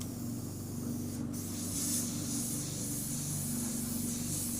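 An airbrush turned down to low pressure sprays ink in a steady, soft hiss that runs unbroken the whole time, close by and with no one talking.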